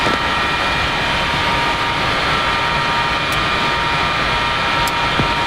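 An F-4E jet engine runs in the DCS flight simulator, a loud, constant roaring whine that holds steady throughout with no talking.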